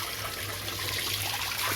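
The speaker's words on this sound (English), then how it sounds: "Got my solar pump going" A solar-powered pump pours water into a barrel at a beach house construction site in the Philippines, a steady close rushing trickle with no break and no talk.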